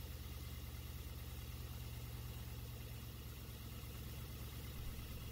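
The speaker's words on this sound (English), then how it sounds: "We'll now turn on the car so we can see just how this thermostat works" A car engine idles steadily in an overheating-repair setting, a faint, even low hum with a regular mechanical throb and no talk over it.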